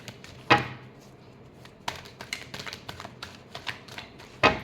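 Tarot cards being shuffled by hand: soft, scattered riffles and taps in short bursts with a few sharper slaps, close and quiet, no talk.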